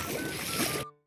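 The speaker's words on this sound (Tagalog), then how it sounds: "Pakalakas ng agos dito." Strong rushing floodwater in a flooded street, a steady broadband wash of flowing water close by that cuts off abruptly near the end.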